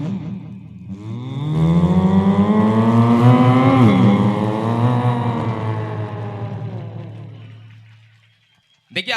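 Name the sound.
voice imitating a sports car driving past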